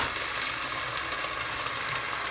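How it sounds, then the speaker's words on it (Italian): Fusilli with tuna sizzles and crackles as it is tossed in a hot frying pan, a dense, even hiss that holds steady throughout without speech. "poi passarla a spadellare, a risottare in padella"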